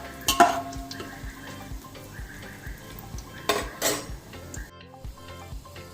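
Whole spices dropped into hot oil in a pan while cooking village-style chicken curry, with sharp clinks and scrapes of metal utensils against the pan over a faint sizzle, close and busy throughout.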